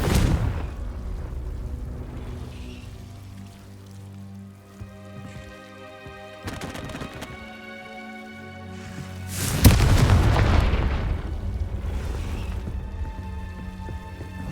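A Confringo spell explosion in the video game Hogwarts Legacy, a loud booming blast that strikes suddenly and rumbles off over a few seconds, set against a quieter tonal game music bed with an earlier softer burst.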